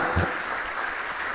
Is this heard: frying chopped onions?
no